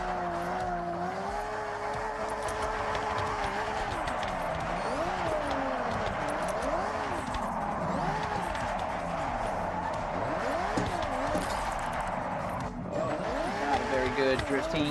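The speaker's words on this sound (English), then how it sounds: "Not a very good drifting entrance here, trying to avoid that car." A car drifts in the Forza Horizon 6 video game, its engine wailing up and down while tires squeal and slide in long sweeping arcs, steady and close, with someone talking over it.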